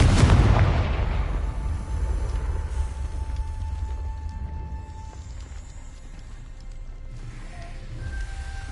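A blasting spell from Hogwarts Legacy goes off in a heavy boom with a sharp attack, then a long rumbling decay with scattered debris sounds and faint game ambience behind.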